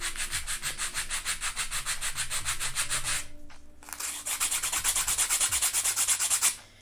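Coarse file rasping back and forth across a small wooden part for a miniature long dresser, a loud, steady run of rhythmic scraping strokes with a brief pause midway before the strokes resume.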